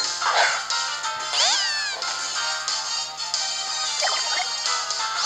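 Meowth's cry from the Pokémon Sun game, a synthesized cat-like meow with sweeping, wavering tones, sounding twice over a steady game background music loop.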